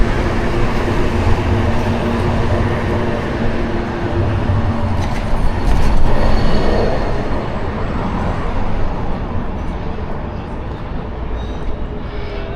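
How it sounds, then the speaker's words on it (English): A green tram rolls past on George Street in Sheffield, a steady broad rumble of wheels and motor close by that swells slightly midway, heard amid street noise without distinct talk. "And it's a green tram."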